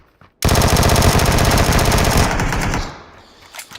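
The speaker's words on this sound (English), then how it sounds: "I've done 3 vector sprays like that at him" Vector submachine gun sprays in a shooter video game: one long, loud, rapid burst of closely spaced shots lasting about two seconds, then tapering off.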